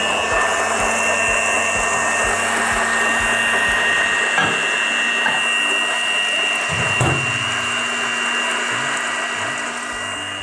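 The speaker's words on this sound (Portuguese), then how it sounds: "enquanto ponho a batedeira a trabalhar" An electric mixer beating a chocolate and butter mixture, a steady loud motor whine that runs unbroken and close, with faint background sounds and no clear talking.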